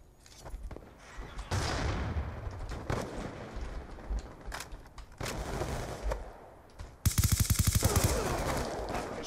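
Automatic gunfire in the Black Ops 2 shooter game, hipfired without a silencer: dense bursts of rapid shots through most of the stretch, closing on a loud, sharply pulsed volley of fast-firing rounds with no talk.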